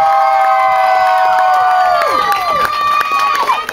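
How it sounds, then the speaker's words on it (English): Audience applause and cheering at a community youth event: a loud, sustained wash of crowd noise with whoops and clapping filling the whole stretch. "Round of applause"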